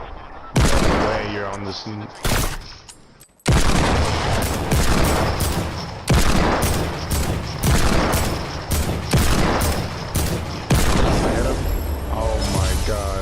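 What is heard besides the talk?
gunfire from a gun in the video game Fortnite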